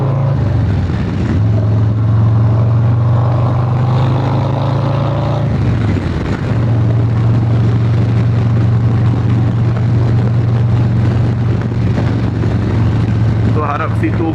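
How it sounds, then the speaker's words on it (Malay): A Harley-Davidson Low Rider ST roars with a steady, loud engine drone while being ridden, heard from on board. The tone drops and shifts briefly partway through, then carries on at a constant pitch. "Tapi itulah dengan bunyi enjin agak kuat ke ah."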